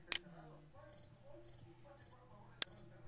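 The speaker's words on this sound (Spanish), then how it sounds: "vendría a ser el del grillo." A cricket chirp sound effect, set as a computer system sound, plays as short repeated trilling pulses at an even rhythm, quiet and close, with two sharp clicks at the start and near the end.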